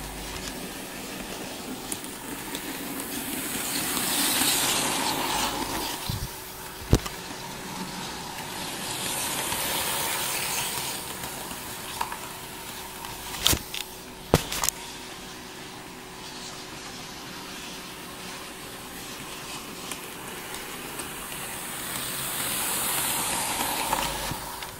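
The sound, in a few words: Hornby Princess Royal Class model steam locomotive running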